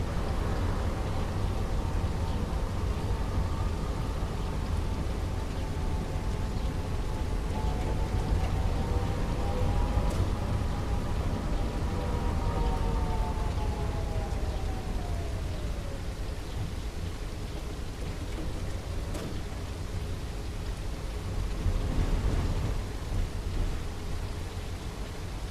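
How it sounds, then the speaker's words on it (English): Steady rain hisses in the City Transport Simulator game with a distant low rumble of thunder, under an engine-like drone whose pitch glides down midway, continuous and fairly loud. "Look at that. Rain."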